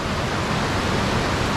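A waterfall at Burgess Falls or Cummins Falls in Tennessee, a steady, dense roar of falling water filling the whole moment without change.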